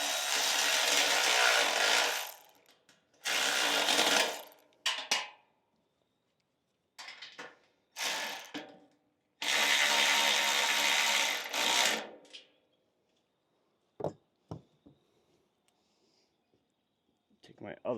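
Bursts of ratcheting and clicking from a socket wrench tightening a 14 mm bolt and 13 mm nut while assembling a Flyway 4x4 auto clay thrower, in several separate runs with pauses and small metallic taps between.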